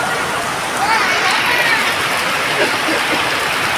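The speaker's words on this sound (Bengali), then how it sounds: "খুব জোরে বৃষ্টি হচ্ছে" Steady heavy rain pours down in a dense, continuous hiss, with faint scattered tones threaded through the downpour.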